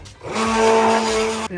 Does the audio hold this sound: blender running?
yes